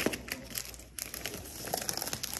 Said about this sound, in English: take the plastic off of this